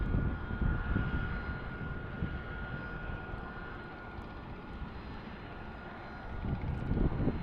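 Aircraft engines run at Tucson International Airport, a plane holding short of runway 12, with a steady, heavy roar and rumble, swelling slightly at the start and end, no talking.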